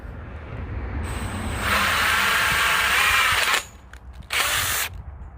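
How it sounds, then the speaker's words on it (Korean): A power drill drives a screw to bore a pilot hole in a greenhouse frame, whining loudly for a couple of seconds, stopping, then giving a short second burst. "이 피스를 이용해서 여기에 구멍을 먼저 한번 뚫어줘요"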